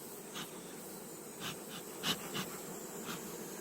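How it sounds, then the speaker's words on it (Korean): Honeybees hum faintly and steadily around a beehive in summer, a soft, continuous drone with a few slight swells and no voices. "자, 이렇게 이제 벌이 있죠."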